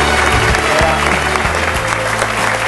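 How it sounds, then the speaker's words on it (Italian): Steady applause from an audience at a local sports event in Forlì, honouring a youth football club official, dense and continuous clapping with a murmur of voices under it. "un grande applauso al responsabile del settore giovanile del Forlì Calcio"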